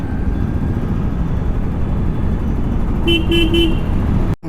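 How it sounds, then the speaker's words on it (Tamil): Dense road traffic near Delhi's Red Fort, heard from a motorbike on a solo ride, with a steady loud roar of engines and a short burst of three car horn toots near the end. "ஃபுல்லாகவே டிராஃபிக் தான்."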